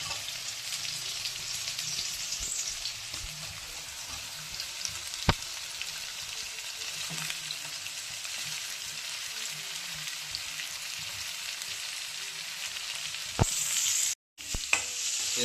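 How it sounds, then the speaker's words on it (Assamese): Chopped onions frying in oil in a pan and being stirred for paneer, a steady close sizzle with occasional scraping clicks from the spoon, no talking. "পিঁয়াজটো এতিয়া লৰাই থকা হ'ব অলপ টাইম"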